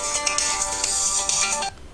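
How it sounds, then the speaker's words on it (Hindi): A smartphone rings with an incoming call, its bright electronic ringtone playing loudly and steadily for under two seconds before cutting off abruptly as the call is rejected. "कॉल आना शुरू हो गया है।"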